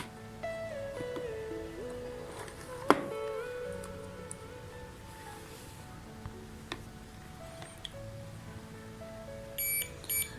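A multimeter on continuity mode beeps as its probes touch the terminals of a changeover relay, with a short bright tone standing out over a busy, steady electronic background and a few brief beeps near the end.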